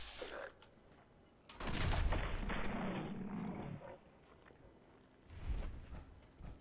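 Rifle gunfire in Fallout 4 sounds as one loud burst with a ringing tail, then a later second blast, separated by quieter ambient game noise.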